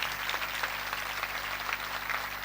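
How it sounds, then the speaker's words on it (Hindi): Hall audience clapping during a church sermon, a continuous fairly even patter heard at moderate level over a steady low hum. "माँ बाप की इस्मत के लिए जोरदार तालियां।"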